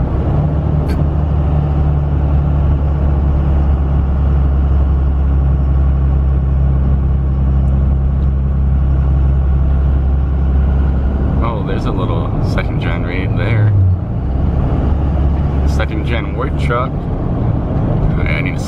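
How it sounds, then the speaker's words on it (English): A Second Gen Cummins diesel truck engine rumbles with a deep, steady low drone, and light turbo whistle rises on throttle as the truck drives along. Someone talks over it. "Nice little rumble. Hear the turbo a little."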